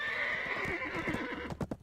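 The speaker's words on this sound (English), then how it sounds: "Get back on my horse," A horse in the video game Black Desert whinnies loudly and at length, then several hoofbeats clop in an uneven rhythm as the call ends.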